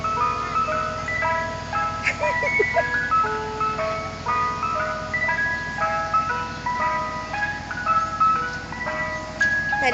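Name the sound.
Mister Softee ice cream truck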